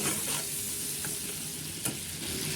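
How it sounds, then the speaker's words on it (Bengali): Prawns coated in turmeric fry in plenty of hot oil in a wok, giving a loud, continuous crackling sizzle with a couple of brief spatters, no voices over it. "কড়াইটা গরম হয়ে গেছে তেল দিয়ে চিংড়ি মাছটা ভেজে নেবো"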